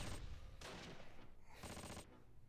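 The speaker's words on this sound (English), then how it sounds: "Some sort of gun." Distant gunfire in the Close Combat video game, heard as repeated rattling bursts of shots in two or three rapid volleys at low volume.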